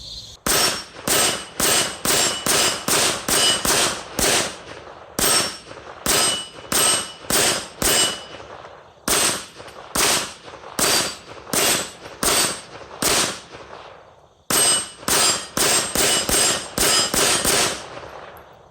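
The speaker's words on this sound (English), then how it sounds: "Hopefully that gets smoothed out, because it's definitely not pleasant shooting this gun." A 2018 Kel-Tec PMR-30 pistol fires long, rapid strings of shots at steel targets outdoors. The sharp cracks come in tight bursts with short pauses between them, loud and close, and nobody speaks.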